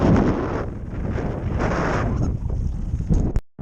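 Strong wind of about 30 knots roars across the microphone while sailing a boat on a bay, a loud continuous buffeting rush that cuts out abruptly near the end.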